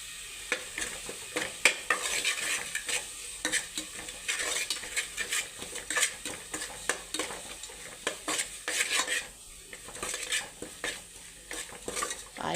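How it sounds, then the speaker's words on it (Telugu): Chili powder and ginger-garlic masala frying in oil for an Andhra-style stuffed brinjal curry, with steady stirring and utensil scraping against the pan over a soft sizzle, close and without talk. "ఇప్పుడు దీన్ని ఆయిల్లో ఫ్రై చేయడం వల్ల కూర బాగా రెడ్డిష్గా వస్తుంది."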